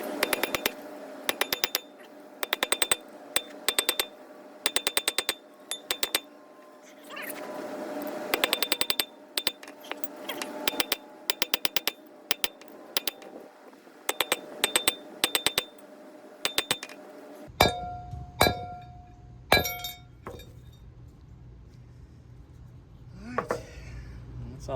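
A wheel stud is hammered into a hub with a metal hammer in a long series of sharp, ringing clinks, struck in quick bursts with brief pauses, with a rumbling background sound in the later part.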